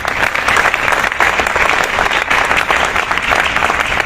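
Dense, sustained audience applause fills the room at an invited lecture, a loud continuous patter of many hands clapping with no pause.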